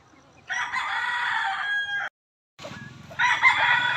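A sinibalang rooster crows nearby in two loud calls, the first long and drawn out, the second beginning after a short gap and rising toward the end.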